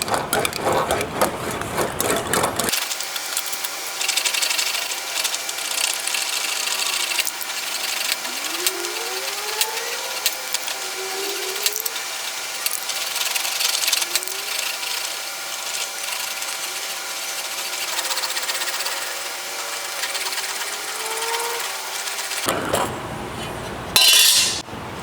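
English wheel rolling over sheet steel patch for a rusted truck cab corner, a steady metallic rumbling hiss with faint squeaks as the panel is pushed back and forth, continuous for about twenty seconds before stopping.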